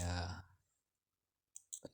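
A computer mouse gives a few quick, faint clicks close together while editing shapes in Inkscape. They follow a voice that trails off into near silence.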